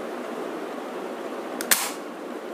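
A toy gun fires a sticky bullet with one sharp, fairly loud snap that comes right after a faint click. The shot stands alone over steady background hiss.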